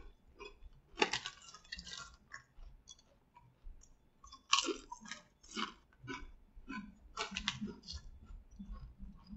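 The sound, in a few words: chewing Flamin' Hot Cool Ranch Doritos chips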